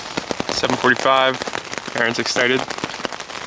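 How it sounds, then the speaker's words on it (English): Heavy rain pours down in Whistler, British Columbia, a steady, dense hiss running beneath people talking close by. "The rain has started to pour down."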